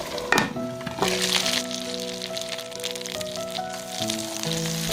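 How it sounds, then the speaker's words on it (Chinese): Stuffed buns filled with pork and crab pan-frying in a hot pan, a steady close sizzle with crackling bursts while a soft musical tone plays beneath. "先煎2分钟，倒入淀粉水，再焖5分钟。"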